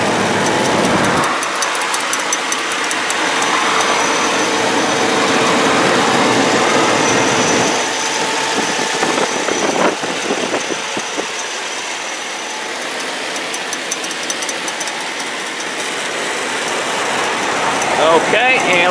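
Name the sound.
pickup truck engine idling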